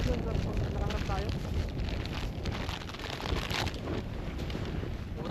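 Cold wind during ice fishing in Canada at about -30°C, rushing and buffeting the microphone continuously in a loud, broadband roar.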